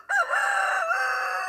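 A Fayo Giant rooster crows once, loud and close, a long sustained cock-a-doodle-doo that carries through the whole moment with no other sound around it.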